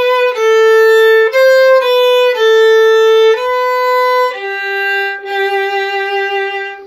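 A solo violin plays the closing two bars of the Welsh traditional tune 'The New Harp', clear sustained bowed notes stepping through a short melodic phrase, loud and close with no talking.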